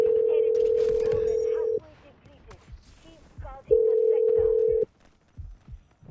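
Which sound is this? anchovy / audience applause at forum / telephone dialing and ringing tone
telephone dialing and ringing tone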